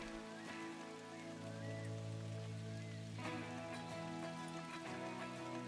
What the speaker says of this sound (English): Of course, it's starting to rain right now, but that's okay.